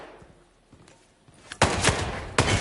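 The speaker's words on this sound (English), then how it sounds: "Oh, gunshot." Gunfire in the video game Hitman 3 on PS5: loud, sharp bursts of shots crack in two clusters after a quieter stretch of game ambience, close and without talk.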